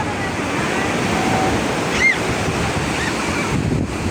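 Pacific Ocean surf washing steadily onto a beach, a continuous close roar of breaking waves with some wind buffeting the microphone.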